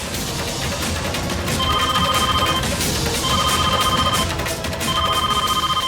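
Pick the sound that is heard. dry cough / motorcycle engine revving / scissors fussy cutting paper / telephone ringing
telephone ringing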